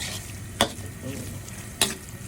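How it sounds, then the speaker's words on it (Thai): Tilapia dry-roasting in a hot pan over a gas flame with a splash of water gives a steady close sizzle, broken by two sharp scraping stirs. "เราก็จะคั่วปลาให้สุกก่อนนะฮะ"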